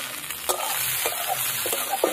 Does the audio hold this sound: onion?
yes